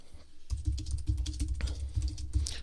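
Rapid, slightly clicky keystrokes on a Logitech K760 solar-powered wireless keyboard paired with an iPad, an uneven close-up patter of taps lasting a couple of seconds without speech.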